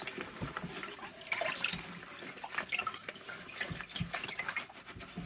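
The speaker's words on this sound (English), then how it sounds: "drain this cold water and put hot water in again" Tap water runs steadily into a sink during hand felting of knitted wool, cold water being drained and hot added, with a continuous splashing and trickling stream, close by and moderately loud, no talk over it.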